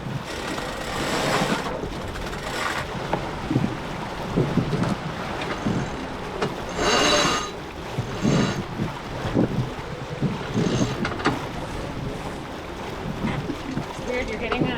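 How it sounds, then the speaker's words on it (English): Gusty squall wind buffets a sailboat, roaring in surges and peaking in strong bursts, with water wash beneath and people talking at times. "you're getting a weird wind up top"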